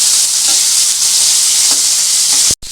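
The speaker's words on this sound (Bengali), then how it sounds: "আচ্ছা, এই মাছগুলো খুব সফট হয় তো, একটু উল্টো পাল্টে দিচ্ছি।" Bhetki fish fillets fry in a pan with a loud, constant hiss and sizzle, while soft scraping taps mark the pieces being turned over, ending in a brief pause.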